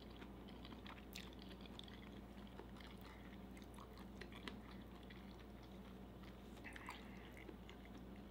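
Close, wet chewing and biting on a mouthful of bacon, with irregular soft crunches and squishy clicks repeating steadily against a low background hum.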